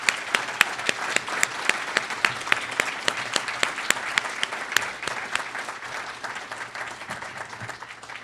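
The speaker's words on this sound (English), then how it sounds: "So I'm going to give them a round of applause." Audience applause at a whistleblowers panel during a political conference, a steady wash of many hands clapping with sharp individual claps standing out, holding strong before gradually thinning toward the end.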